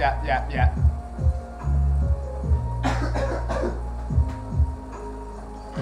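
Several short, harsh coughs in quick bursts, close to the microphone, with a low hum underneath.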